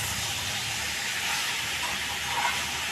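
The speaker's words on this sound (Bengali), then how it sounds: "আমি এবার জল দিয়ে দেবো।" Water poured into a hot pan of spiced rohu fish curry with ridge gourd makes a loud, continuous hiss and steamy sizzle, steady from start to finish with no talking.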